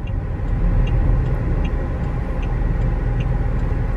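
2006 Pontiac G6 driving on an expressway, with a loud steady interior road and engine rumble and faint periodic ticking on top.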